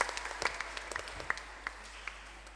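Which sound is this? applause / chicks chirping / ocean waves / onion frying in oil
applause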